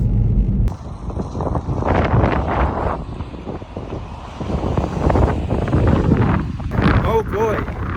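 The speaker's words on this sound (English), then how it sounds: "Oh boy, it's very windy." Heavy wind buffets the microphone in loud, rumbling gusts that continue without pause, with a voice faintly audible near the end.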